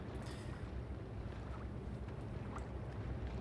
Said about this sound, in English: being able to hear the waves. No, they're kind of gentle.